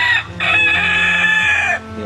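A rooster calls to nearby hens with a loud, close crowing cry of about two seconds. It breaks briefly near the start and then carries on in one long drawn-out note.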